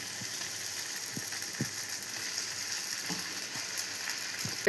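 Spinach ravioli tossed into sauce in a pan over a low flame gives a steady, soft sizzling hiss, with a few faint clicks and scrapes scattered throughout.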